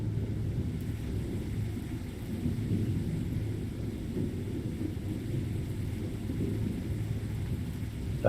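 Rain and rolling thunder in the train video game Signal Simulator form a low, continuous rumble with a steady hiss of rainfall, moderately loud and unbroken, with no voices.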